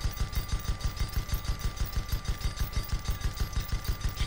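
Airship guns in the game Guns of Icarus fire in a rapid, steady stream of evenly spaced shots that keeps going for several seconds, loud and close, with no voices over it.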